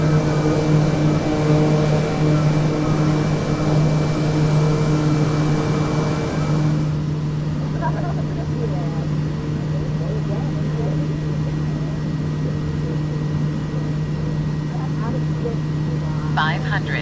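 A Kodiak 100 single-engine turboprop in Microsoft Flight Simulator 2020, on approach over Papua New Guinea, gives a steady propeller drone with a strong constant hum that drops slightly in tone midway, while someone talks over it.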